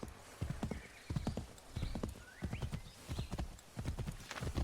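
A horse in the Assassin's Creed III video game gallops with rapid, rhythmic hoof clip-clops, joined by a brief whinny partway through, fairly quiet overall.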